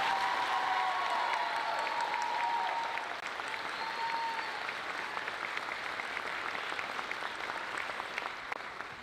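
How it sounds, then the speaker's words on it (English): School concert audience fills the hall with a sustained, dense wash of applause for a choir senior, steady and moderately loud throughout, slowly tapering toward the end. "So another round of applause for Nolan and all of his hard work"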